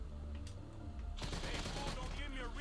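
Rapid gunfire bursts in a GTA mission, starting after about a second and continuing as dense automatic shots over a steady background of game sound, with a voice talking faintly underneath.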